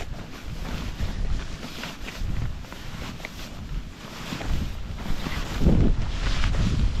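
Strong wind in wet, stormy weather buffets a tent on a wild camp near Crinkle Crags in the Lake District, a loud continuous rushing roar with gusting surges and fabric flapping close to the microphone.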